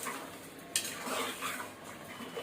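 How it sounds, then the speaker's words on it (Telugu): Vegetable pieces being stirred with turmeric and salt in a pan, a soft, continuous scraping and shuffling of utensil against metal with a faint light clink, fairly quiet. "ఈ పసుపు, ఉప్పు వేసిన తర్వాత ఒకసారి బాగా కలుపుకోవాలి."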